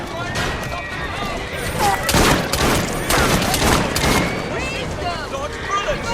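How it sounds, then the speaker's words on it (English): Rapid gunfire and explosive bursts in the video game Assassin's Creed Syndicate, loud and dense, surging in volume mid-clip amid game action and shouting voices. "Just keep shooting!"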